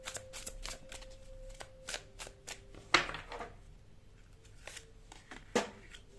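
Tarot cards being shuffled, quick riffling flicks and soft taps close by, with a couple of sharper snaps, and no talking.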